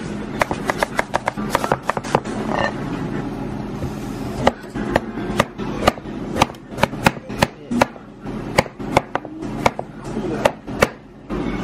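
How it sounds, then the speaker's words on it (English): Knife cutting a tomato on a board while cooking pork sinigang, a long series of crisp, close chopping taps at an uneven, brisk rhythm, with faint background hum. "Cut the tomato because it's right in front of me."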